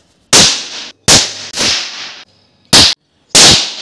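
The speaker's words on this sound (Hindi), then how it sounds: "जब हम इसको खींचते हैं तब ये ब्लास्ट करता है" Five sharp, loud cracking bangs from thread-pull firecrackers go off one after another at uneven intervals, each a brief snappy burst with a short tail.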